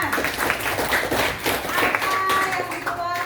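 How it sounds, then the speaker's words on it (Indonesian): A classroom of students claps briefly in a rough, uneven burst with a few raised voices. Chatter continues underneath and fades toward the end. "Tepuk tangan."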